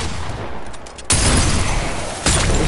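Gunfire from a sniper rifle in an online shooter video game: a quieter stretch ends in a sudden loud blast, sustained crackling noise, and a second loud report near the end, with no talking.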